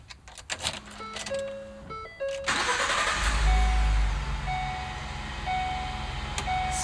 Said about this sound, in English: we can start our engine with the house battery